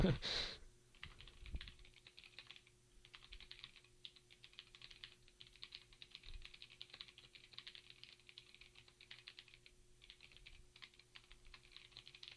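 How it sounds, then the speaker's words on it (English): A reply is typed on a computer keyboard in quick, uneven bursts of close, light key clicks with short pauses, after a brief louder knock at the start. "I'm going to type back to him right now"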